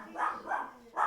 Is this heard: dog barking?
yes